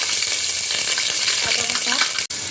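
Dried red chillies fry in hot oil with bay leaves, giving a close, continuous sizzle with a few scraping stirs and a brief drop-out near the end.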